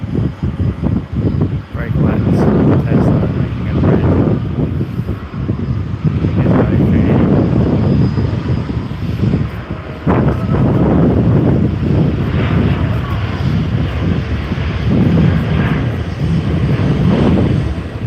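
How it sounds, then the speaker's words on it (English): An Airbus A380 airliner rolls down the runway with a loud, continuous roar from its jet engines and gusts of wind buffeting the microphone, heard from a planespotting spot nearby. "Our A380 is rolling."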